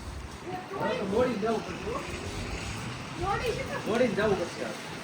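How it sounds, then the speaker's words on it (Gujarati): Strong wind buffets the microphone in a steady roar while people talk over it outdoors. "પવન એટલો છે અને ઠંડી એટલી છે"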